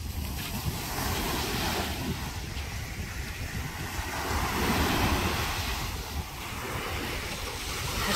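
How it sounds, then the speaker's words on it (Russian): Sea waves wash steadily onto a long beach spit in Crimea, a continuous broad surf roar with wind buffeting the microphone and no voices. "Ну вот уже, собственно, и море."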